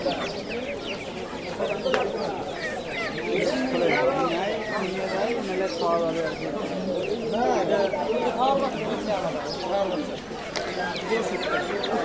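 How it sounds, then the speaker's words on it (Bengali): Many chickens, including native desi breeds, cluck and squawk continuously at a busy Saturday duck-and-chicken market in Savar, Bangladesh, with people talking throughout the crowded scene. "বিভিন্ন জাতের মুরগি দেশি মুরগি"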